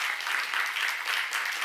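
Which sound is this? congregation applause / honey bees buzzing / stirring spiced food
congregation applause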